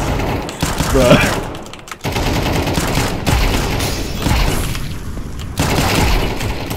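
Bursts of rapid gunfire and booming shots from the video game Counter-Strike 2 come loud and close, repeatedly cutting in and out, with players talking over the shooting.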